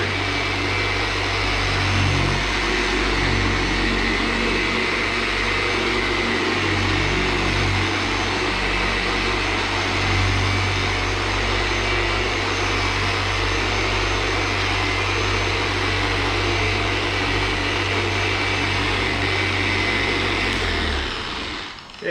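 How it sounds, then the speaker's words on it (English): A polishing machine buffs a car hood with a steady, loud, unbroken whirring drone that runs evenly for the whole stretch and cuts off only at the very end. "I'm going to finish polishing up this hood"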